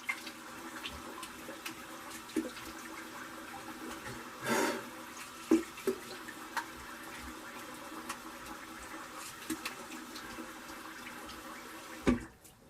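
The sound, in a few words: water running while rinsing alum off face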